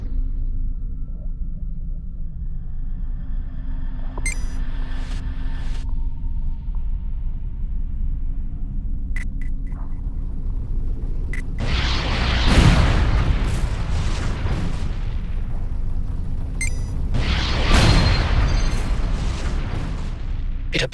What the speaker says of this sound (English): Missiles on the next targets. Set a target lock before shooting so the missiles can home in.